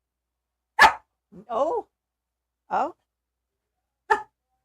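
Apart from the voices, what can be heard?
dog barking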